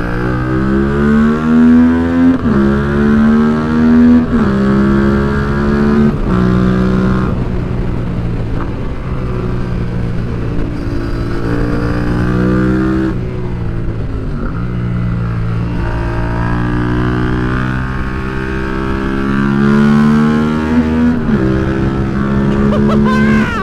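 A Yamaha MT-07 motorcycle, rebuilt after a crash, is ridden hard: its twin-cylinder engine revs up and down through gear changes, with rising and falling pitch and stretches of engine braking.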